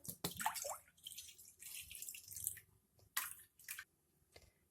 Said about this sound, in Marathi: सर्वप्रथम एका कढईमध्ये पाणी घालूया.